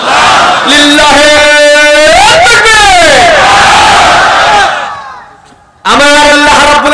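A large crowd at an outdoor religious gathering in Natiya Para, Tangail, roars the takbir call loudly in unison, repeated in swelling waves that fade out and then surge again near the end.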